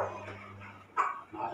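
A young puppy gives two brief, faint yips close by against a quiet indoor background.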